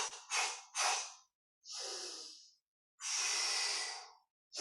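Deep breathing during a Pilates mat exercise, with several short sharp breaths followed by two long, forceful, airy exhales. The breaths are close and separated by silence.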